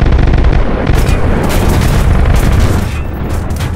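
Gunfire from a helicopter in War Thunder VR, a loud, dense rumble of booming shots and rapid bursts that runs unbroken for the whole stretch.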